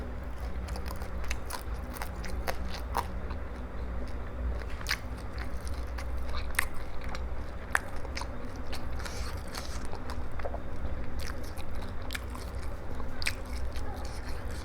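Crispy pork cheek and fried catfish being eaten with spicy papaya salad: close, continuous crunchy biting and chewing with wet mouth sounds, repeated steadily throughout with no talk.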